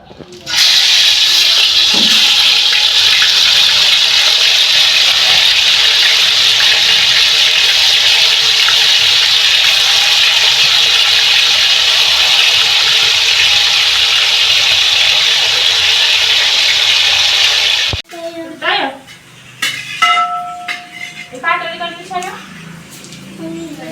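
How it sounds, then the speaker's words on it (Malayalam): Chicken for biryani goes into well-heated oil and fries with a loud, steady sizzling hiss that lasts close to twenty seconds, then stops abruptly as voices begin talking. "എണ്ണയൊക്കെ നന്നായിട്ട് ചൂടായിട്ടുണ്ട് അപ്പോൾ ചിക്കൻ വറക്കാം"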